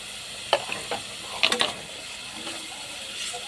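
Egg curry ingredients being fried and stirred in a pan: a soft steady sizzle, with a few sharp scraping clicks of the spatula against the pan, fairly quiet and with no voices.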